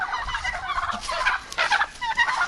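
Turkeys gobble in several rapid warbling bursts, close by and fairly loud, with brief gaps between calls.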